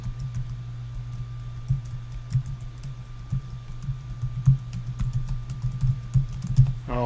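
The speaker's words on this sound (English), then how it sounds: "I'll type a short email." Quick, light keystrokes on a computer keyboard while a short email is typed, an irregular patter of clicks running steadily throughout over a low constant hum.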